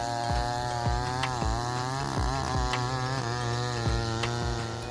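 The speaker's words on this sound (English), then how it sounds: "The McCulloch 797 chainsaw efficiently cuts hardwood, easily handling large tree trunks like this oak tree" McCulloch 797 chainsaw cutting through an oak tree trunk, its engine whining loud and close with rhythmic surges and dips as the chain bites into the hardwood, no voices.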